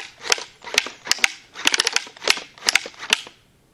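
A full-auto slingshot minigun fires short bursts of sharp, rapid clacking shots, about a dozen snaps grouped in quick clusters with brief pauses between them, close and crisp with no voice over them.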